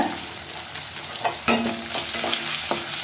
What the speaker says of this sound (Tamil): இப்போ ஒரு ஸ்பூன் இஞ்சி பூண்டு விழுது சேர்த்துக்கலாம்